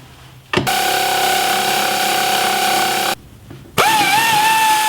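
A power tool spins off 10mm nuts from a Jeep's fender flares in two bursts: a steady high whine for about two and a half seconds, a brief pause, then a second run that revs up again.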